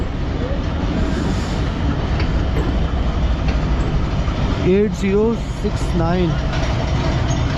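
The Thal Express, hauled by an HVU locomotive, rolls along loudly with a constant low rumble and rail clatter, while a voice talks briefly over the noise partway through.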